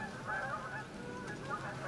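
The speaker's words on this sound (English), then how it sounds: "Finally, a flock of geese flew by. Their haunting calls" A flock of geese honking repeatedly, overlapping calls carrying steadily with no voices.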